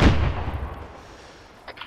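A single loud gunshot in the video game Arma 3, a sharp close blast that decays into a rumbling tail, followed by a couple of faint distant pops.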